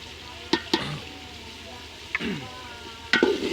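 Pickle being fried in a spice masala in a pot makes a low background sizzle, broken by a few sharp scrapes and stirring knocks, with a louder burst near the end.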